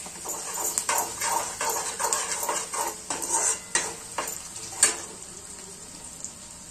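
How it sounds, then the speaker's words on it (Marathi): Ground peanut powder frying in a pan, with a continuous sizzle and repeated quick spatula scrapes against the pan, close and fairly loud, with no voices. "अर्धी वाटी शेंगदाण्याचं कूट आहे हे टाकून घेऊया। याला पण फ्राय होऊ देऊया थोडस।"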